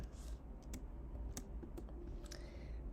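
Key presses on a computer keyboard while typing code come as a few sparse, faint clicks spread irregularly over a quiet background.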